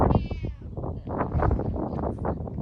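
A neighbour's cat gives a short, high meow up close, followed by low, murmuring sounds in a quiet room.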